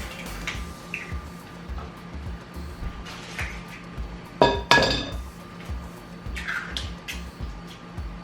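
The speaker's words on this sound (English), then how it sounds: "then I'm going to put in 2 eggs" Two eggs are cracked into a glass bowl for flourless breakfast muffins, giving a sharp clink and brief crack in the middle amid faint scattered kitchen clatter, close and fairly quiet.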